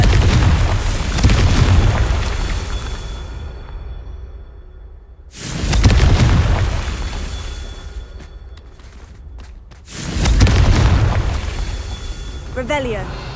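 In the video game Hogwarts Legacy, three loud, booming fire-spell blasts from Confringo each burst out and then roll away into a fading rumble, spaced several seconds apart.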